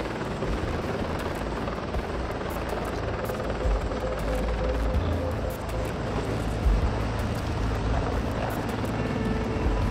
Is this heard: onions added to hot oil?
no